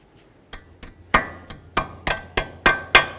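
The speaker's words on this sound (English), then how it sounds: "Peen it over so it can't fall out." About nine sharp metallic hammer strikes peen over a cotter pin on a 2008-2012 Jeep Liberty front axle nut, close and loud, spaced unevenly and ringing briefly after each hit.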